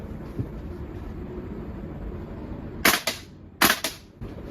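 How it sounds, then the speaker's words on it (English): A VFC V3 gas blowback XM177 airsoft rifle fires two quick bursts at close range. Sharp cracking reports with short echoing tails stand over a low background rumble. "I bet it still fires in the XM177"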